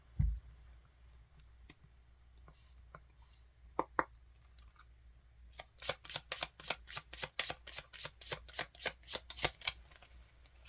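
Tarot cards shuffled by hand, a few scattered soft clicks at first, then a quick rhythmic run of crisp riffling snaps close to the ear, with no talking.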